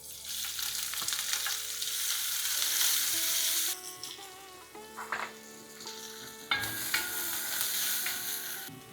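Onions frying with mustard seeds and cumin in hot sesame oil in a pan, a loud continuous sizzle that dips briefly midway as something is stirred, then surges back strongly when more goes into the pan.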